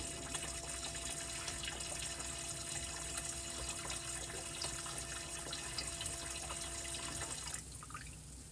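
A reef aquarium's auto top-off pump runs steadily, pushing fresh water into the tank with a continuous watery hum and trickle that stops abruptly near the end, leaving quieter room tone.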